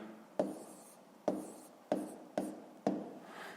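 Numbers being handwritten for a fifth-grade math exercise, five distinct close scratchy pen strokes at uneven intervals, each fading quickly, quiet with no talk.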